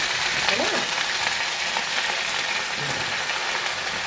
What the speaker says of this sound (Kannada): ಇವಾಗ ಇದನ್ನ ಎಣ್ಣೆಯಲ್ಲಿ ಹಾಕ್ಕೊಳ್ಳೋಣ.